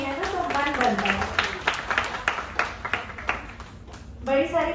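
Scattered hand claps from an audience at a literature festival sound under a man's continuous speech, the clapping moderately loud and fairly steady.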